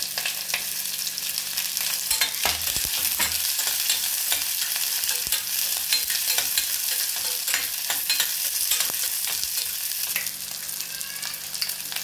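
Sliced onion and two green chilies sizzling in a hot pan for coconut milk rice, a loud, continuous bright fry with occasional scrapes of a spoon stirring, no voices.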